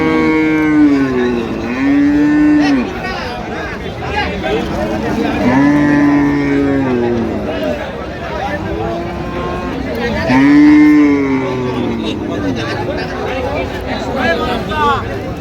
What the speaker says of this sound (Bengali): আমরা দেখছিলাম এখানে যে গাভী বাছুর সুন্দর কোয়ালিটির